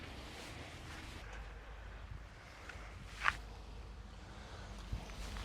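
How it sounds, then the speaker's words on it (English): Steady outdoor wind rumbles and buffets the microphone ahead of an approaching storm, a continuous low roar with a couple of brief gusts, and no talking. "It's kind of windy today."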